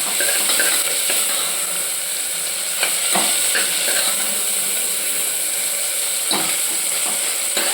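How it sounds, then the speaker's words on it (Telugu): Coriander and curry leaves fry in a hot pan with a steady, close sizzle and crackle, stirred now and then with a few scraping knocks, no voices over it. "ఇప్పుడు దీన్ని ఇలా బాగా వేపుకోవాలి"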